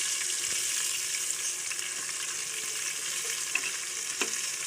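Onions fry in a pan with a soft, steady sizzling hiss, fairly quiet and close, with a few faint clinks and pops and no talking.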